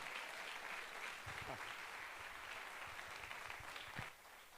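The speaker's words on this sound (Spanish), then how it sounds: "Denle un aplauso fuerte al Señor" A church congregation at a special worship service applauds loudly, a sustained roar of clapping that carries a few low voices and thumps and eases off near the end.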